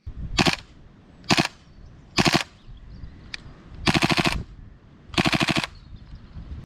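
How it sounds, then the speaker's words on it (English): A KWA Kriss Vector gas blowback airsoft gun fires in rapid bursts, short clusters of sharp cracks with pauses between, a couple of longer full-auto strings, close and loud. "this thing makes a beautiful sound when you're racking it, when you release the bolt, when you go in full beans"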